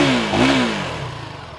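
KTM 390 Enduro R motorcycle engine revved into the higher rev range, a brief loud close whine that peaks and then falls away as the throttle closes.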